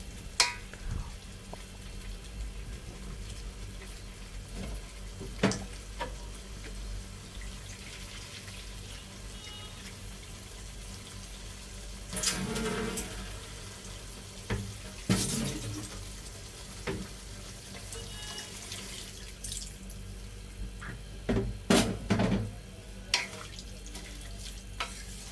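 Water is poured into a pan of beef keema and white chickpeas, giving faint sizzling, splashing and stirring noises in a quiet kitchen, with a few louder clattering bursts.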